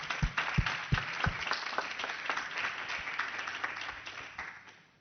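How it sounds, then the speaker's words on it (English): Applause for panel presenters at an online food policy forum, opening with a few distinct loud claps nearby, then a quieter, steady patter of clapping that thins out and fades toward the end. "So we'll give you all a clap now"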